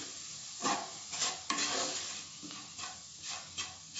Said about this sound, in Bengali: ভালো করে মিশিয়ে নিলাম তেলের সঙ্গে, এটাকে কষিয়ে নিচ্ছি